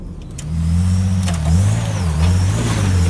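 Supercharged V6 four-wheel drive pushing uphill with momentum on a forest track, a loud close engine drone that swells and wavers in pitch as revs rise and fall.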